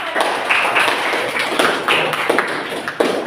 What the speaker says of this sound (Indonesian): beri tepuk tangan juga anak-anak